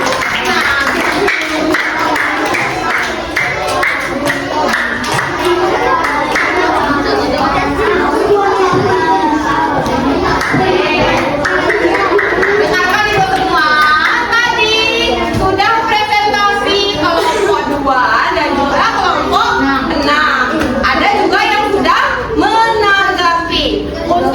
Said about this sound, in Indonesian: Berikan tepuk tangan untuk kelompok 1 dan juga kelompok 6.